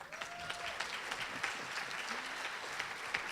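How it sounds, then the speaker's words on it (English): Applause from an audience at a Rotary Club luncheon, a steady wash of many hands clapping at moderate distance for a few seconds, with faint voices in the room. "that's worth clapping for"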